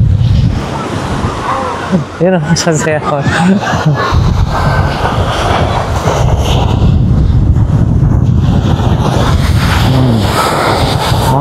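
Ocean waves roll onto a beach with swimmers in the water, a loud continuous wash of surf mixed with heavy wind noise on the microphone, while a person talks briefly over it.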